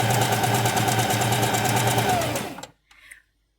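Sewing machine stitching fabric, a fast, even, rattling run of stitches held steadily for over two seconds, then slowing to a stop with a brief mechanical clunk.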